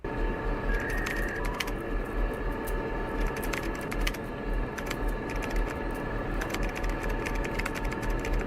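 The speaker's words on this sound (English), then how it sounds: "turn off the typing sound if there's no text being moved" Rapid keyboard typing clicks used as a sound effect in a Team Fortress 2 contest entry, a steady run of crisp taps over a low constant hum, with a brief high tone early on.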